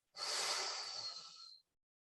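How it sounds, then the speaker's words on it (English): One forceful breath out during a seated chair yoga exercise, a close, airy hiss lasting about a second and a half before stopping cleanly into silence. "let's try doing a little bit of a harder breathe out as we squeeze"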